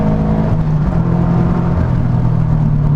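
A Subaru BRZ's engine drones steadily in third gear at around 60 mph while cornering, heard from inside the car as a loud, sustained low hum with a constant whirring tone and no speech.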